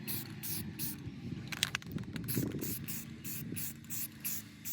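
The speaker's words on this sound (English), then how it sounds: "we're just using some grill paint because that's what we had" Grill paint sprays from an aerosol can onto a truck fuel-system part in a garage, repeated short hissing bursts with a scraping clatter in the middle, close and fairly quiet.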